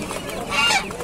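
Poultry call at a busy live chicken market, a brief honking squawk rising over crowd murmur, with people talking nearby.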